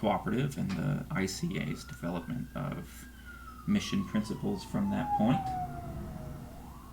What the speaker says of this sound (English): so sorry about the siren.